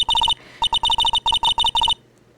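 A cellphone ringtone from the Phoenix Wright Ace Attorney video game plays as rapid bursts of bright electronic beeps in quick groups, loud and clear, then stops.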